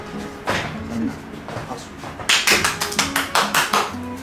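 Hands clapping at a small seated gathering, quieter at first, then a run of sharp, close claps in an even, rhythmic beat of about eight strikes.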